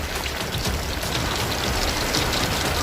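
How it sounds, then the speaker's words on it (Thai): Heavy storm rain pours steadily over the Chao Phraya River in Bangkok, a dense, loud hiss of drops with no break and no voices. "ฝนมาเยอะครับทุกผู้ชม"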